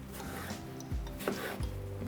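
A knife slices a melon into medium cubes on a cutting board, with rubbing, rasping cuts and a few soft thuds of the blade meeting the board, close and alone.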